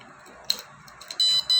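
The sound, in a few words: smart door lock buzzer sounding loudly after unrecognised card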